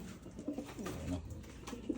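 Free-flying pigeons, damp after rain, give a few brief, soft throaty coos, faint and close together over a quiet background.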